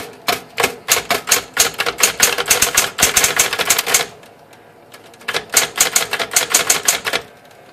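Rapid keystrokes on a Smith Corona electric typewriter in two dense bursts separated by a short pause, each crisp clack close and loud, with a mechanical clatter throughout.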